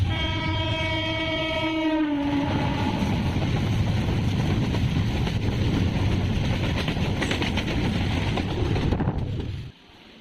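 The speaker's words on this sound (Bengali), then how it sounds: "মৌডিগ্রাম ফ্লাইওভার ঢোকার আগে প্রায় কুড়ি মিনিট দাঁড়ানোর পর ট্রেন ছাড়ল ডান দিকে চলে গেল মৌডিগ্রাম কেবিনের দিকে" An up Santragachi–Amta local passenger train pulls away from a halt before the Maurigram flyover, opening with a loud multi-tone horn blast, then a steady close rumble and rattle of wagons rolling past, ending abruptly.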